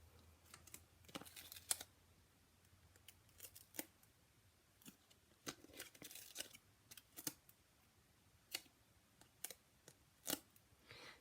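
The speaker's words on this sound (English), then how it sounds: "Let me trim up these ends." Quiet, sharp snips of scissors trimming the ends of paper card pieces for a handmade Valentine's Day card, spaced irregularly and close by, with soft handling noise between cuts and no talking.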